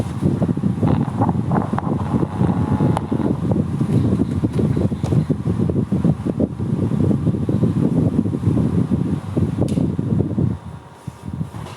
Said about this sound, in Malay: Bunyi bising, bunyi kipas sekejap.